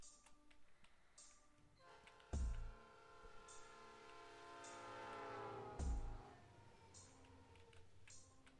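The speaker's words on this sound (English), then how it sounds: "Train's leaving any minute." A departing train in the video game Pokemon Reborn sounds two loud, sustained horn blasts over a low rumbling engine, set against periodic high electronic chimes.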